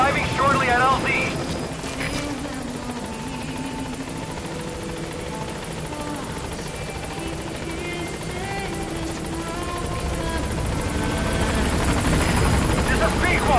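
Helicopter arriving at a landing zone in Metal Gear Solid V: a steady, loud rotor and engine drone that holds throughout and swells slightly toward the end, with faint radio-style voices mixed underneath.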